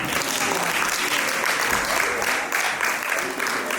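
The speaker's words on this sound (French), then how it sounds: "Est-ce qu'on peut encore applaudir pour les mots de notre médecin?" Audience applause at a birthday celebration in a hall, dense steady clapping from a crowd that fills the whole stretch at an even, loud level.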